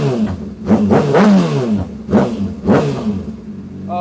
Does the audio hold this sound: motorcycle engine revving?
yes